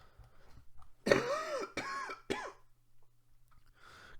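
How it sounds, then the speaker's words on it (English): A sick person coughs three times in quick succession, close and loud, with short harsh bursts separated by brief pauses and quiet room tone after. "Excuse my coughing."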